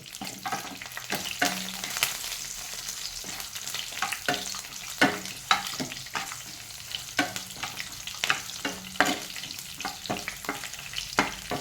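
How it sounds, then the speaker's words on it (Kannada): Curry leaves, dried red chilies and green chili fry in hot oil in a pan, with a steady sizzle and a utensil stirring at intervals throughout, close and clear with no voices. "ಇದನ್ನು ಚೆನ್ನಾಗಿ ಹುರಿಯಿರಿ."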